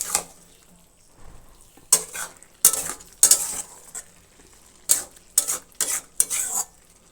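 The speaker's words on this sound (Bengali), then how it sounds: "আলুগুলো আমার দেওয়া হয়ে গেলো, আবারও একটু নাড়াচাড়া দিয়ে আমি ঢেকে দেবো।" Utensil scraping and stirring cabbage, dal and fried potatoes in a pan, in several short bursts with clinks against the metal and faint sizzling between them, close and with no talk.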